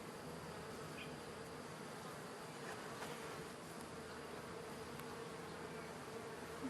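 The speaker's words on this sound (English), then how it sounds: "They're starting to swarm." Honey bees buzz around an open, growing backyard hive, a steady faint hum of many insects close by, with no one talking.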